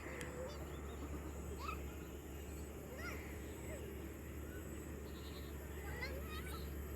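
Faint, distant goat bleats rise now and then over a quiet hillside background after rain in Rangamati, with a low hum and occasional bird chirps.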